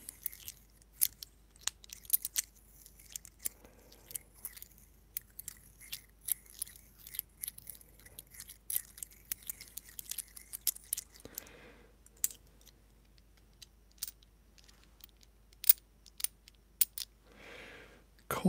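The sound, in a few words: coins being handled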